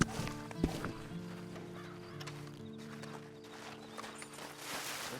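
Horse hooves clip-clopping in the Red Dead Online video game, a few soft, fairly distant hoof knocks spread over a low humming ambient backdrop, with no talk over them.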